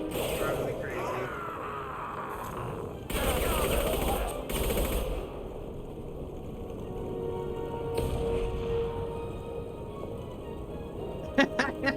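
Gunfire in the Mass Effect 2 video game, with bursts of rapid shots in a couple of loud stretches over a constant busy background, and a few sharp snaps near the end.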